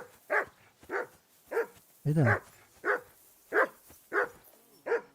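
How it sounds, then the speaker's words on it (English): A dog in the video game Kingdom Come: Deliverance 2 barks steadily, about eight sharp barks at an even pace, close and loud, with a brief spoken remark in the middle. "Call off that damn dog before he wolfs down the last of our mates."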